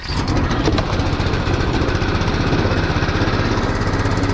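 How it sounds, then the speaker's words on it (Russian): An 8 hp four-stroke outboard boat motor running with the choke on, in a loud, steady, close drone with a buzzy, even pulse throughout. "Подсос, 4-тактный двигатель, 8-сильный фан. Как-то вот так он едет, на ходу заводится."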